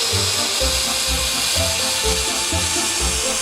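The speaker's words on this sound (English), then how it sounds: "Just use the handheld saw to trim off the excess." A Taurus 3 handheld saw trims the excess off a panel, making a loud, continuous grinding whir with a rhythmic low pulsing as the blade works along the edge.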